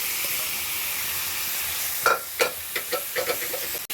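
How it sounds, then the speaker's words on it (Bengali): Boiled potatoes and peas are tipped into a pan of spice paste frying for ghugni, bringing a steady sizzle with a few soft thuds and stirring scrapes toward the end. "সে আমার মশলাটা কষানো হয়ে গেছে, ওর মধ্যে আমি আলু মটর সেদ্ধটা ঢেলে দেবো।"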